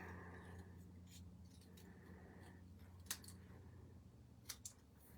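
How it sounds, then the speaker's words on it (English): Scissors trim stamped paper at a crafting desk, a few quiet, brief snips over a low steady hum, faint and close. "my scissors and trim these down nice and tight."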